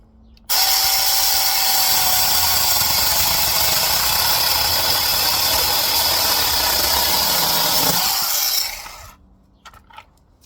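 A Handwise 6-inch battery mini chainsaw cuts through a roughly 3-inch piece of wood, running loud and steady for about eight seconds before the motor winds down and stops, close to the listener with no talk.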